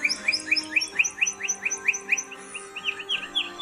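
Lark bunting song recorded alone: a rapid series of bright, rising whistled notes and trills repeated over a few seconds, clear and fairly close.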